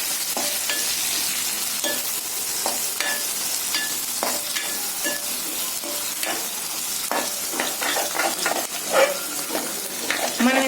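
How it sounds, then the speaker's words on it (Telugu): Capsicum pieces fry for chilli chicken in a pan, giving a steady close sizzle with repeated scraping stir strokes and clinks throughout. "ఇప్పుడు అవి వేపుకుందాం"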